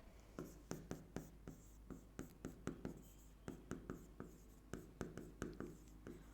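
Notes being written by hand during a biology lesson: a steady rhythm of short, scratchy pen strokes close to the microphone, continuing with brief pauses over a quiet room.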